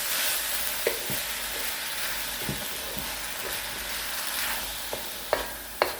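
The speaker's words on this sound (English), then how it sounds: "And we'll saute it." Glass noodles for Korean japchae sautéed in a pan with soy sauce, a steady close hiss of frying with sharp scrapes and taps of a utensil stirring them at irregular moments.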